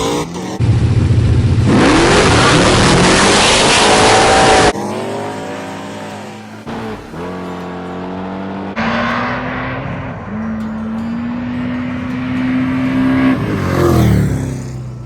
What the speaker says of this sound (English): The Trailblazer SS spun the tires on the hit and never recovered.